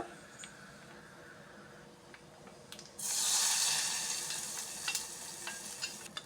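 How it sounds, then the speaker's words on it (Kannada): Garlic tempering hitting hot oil for a leafy greens gojju, a sudden loud sizzle that bursts in partway through and then settles into steady frying crackle, close up. "ಬೆಳ್ಳುಳ್ಳಿ ಒಗ್ಗರಣೆ ಹಾಕುವ"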